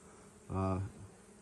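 Honey bees at apiary hives, with one close, brief buzzing pass that swells and fades within about half a second against a quiet outdoor background.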